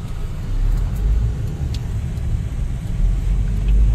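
A car rolls along a road on a trip to Wayanad, a steady low engine and tyre rumble heard from inside the cabin, swelling slightly now and then, continuous and fairly loud with no talking.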